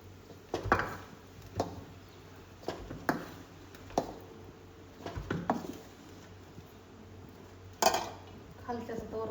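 Dishes, pots and pans being scrubbed and washed: scattered clinks and clanks of metal utensils knocking together at irregular intervals, moderately close, over a low background hum with occasional faint voices.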